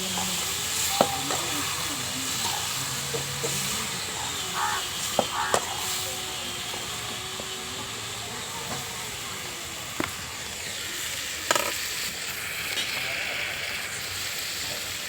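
Tomatoes sauté in a pan with onion and garlic for an anchovy curry, giving a steady, moderate sizzle and hiss with occasional sharp clinks of a utensil against the pan.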